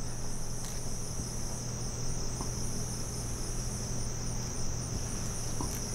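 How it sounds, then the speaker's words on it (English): Crickets and other insects chirp steadily outdoors at night, a continuous high-pitched drone with a low hum beneath, moderately quiet and unbroken, with no talk. "Just all kinds of bugs out here tonight."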